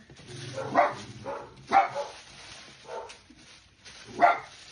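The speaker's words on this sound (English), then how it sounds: "Those are my dogs. Excuse my dogs." Dogs in a home bark in a few short, separate bursts with pauses between them, moderately close and alone, with no talking over them.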